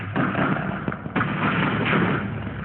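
Minecraft TNT blowing up inside the game, a dense rumbling blast that fills the whole clip with a few sharper thuds layered on top, loud and sustained with no voices.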